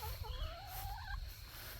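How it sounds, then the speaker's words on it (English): Backyard coop chickens give a short burst of warbling, rising-and-falling fowl calls close by, over a low rumble of wind or handling noise. "And I still have my older chickens right here."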